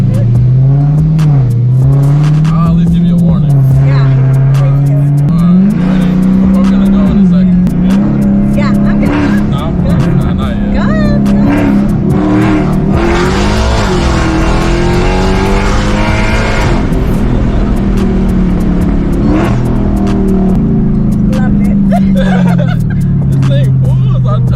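A 1000-horsepower Dodge Hellcat accelerates hard with a loud, continuous engine drone whose pitch dips and climbs between shifts, swelling into a fuller, harsher roar midway, while voices murmur over it.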